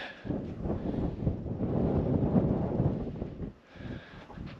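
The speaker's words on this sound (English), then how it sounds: "as you can hear in the microphone, it's still pretty windy" Steady low rumbling wind buffeting the microphone by a boat at Point Billie, Cape Range National Park, loud and continuous, easing briefly near the end before gusting up again.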